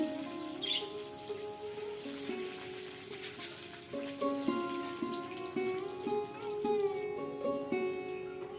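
Chopped garlic going into hot oil that already holds chopped ginger, with a steady broadband sizzle and frying crackle sustained throughout, moderately loud and close, with faint tonal background hum and no talking.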